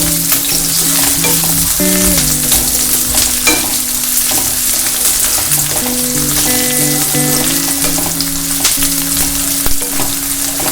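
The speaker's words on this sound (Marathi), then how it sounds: "अशा रीतीने अगदी थोडासा कांदा हा कलसून घ्यायचा आहे" Onion sautéing in a pan sizzles and crackles continuously for the full length, sitting beneath steady background music with sustained tones.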